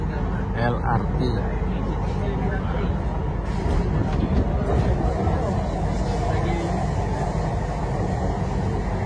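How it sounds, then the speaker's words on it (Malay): Inside a crowded LRT train in Kuala Lumpur on a busy Sunday, a steady low rumble of the moving carriage fills the space under murmuring passengers, with a close voice talking over it. "Dalam monorail tau, dalam LRT ni."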